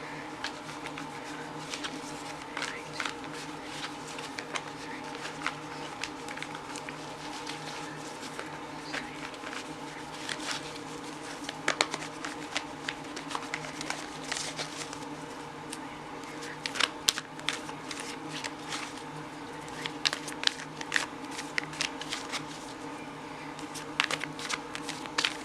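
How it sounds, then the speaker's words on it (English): Tarot cards shuffled by hand close up, a continuous soft crisp riffling and tapping with irregular louder snaps, over a faint steady background hum. "Just bear with me while I shuffle the tarot cards first"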